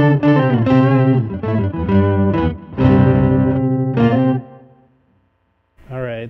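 Electric guitar played through an EarthQuaker Devices Pitch Bay harmony pedal with delay added: bright, layered effected notes and chords ring out loudly in turn, then fade to silence before a fresh chord starts.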